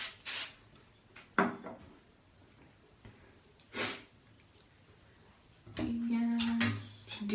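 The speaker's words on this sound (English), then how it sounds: "And I got this next layer that I just spray." Hairspray hisses onto hair in a few short bursts with quiet pauses between them, followed by faint handling noise.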